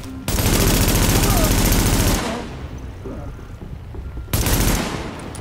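Loud sustained automatic gunfire from The Division, a rapid burst of about two seconds, a quieter pause, then another burst starting.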